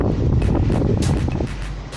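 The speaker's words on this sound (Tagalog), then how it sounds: "Mahangin pa dito, kaya sensation malamang nasa 5 degrees" Steady wind buffeting the microphone outdoors on a cold day in Barcelona, riding a Honda ADV350 scooter, a loud continuous rumble with gusty swells throughout.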